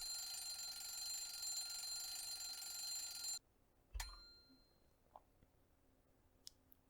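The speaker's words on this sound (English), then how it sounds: "I set the alarm clock earlier than usual" An alarm clock rings in the morning, a loud steady electronic tone that cuts off abruptly, then a thump and a few faint clicks and rustles in a quiet room.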